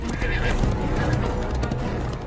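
Horse neighing loudly while hooves clatter at a gallop as a rider flees, the whinny rising early over constant, close hoofbeats and noise.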